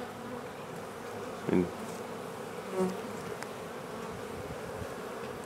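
Honey bees in a winter cluster hum in a low, constant buzz, with a brief closer buzz swelling in twice and a single spoken word.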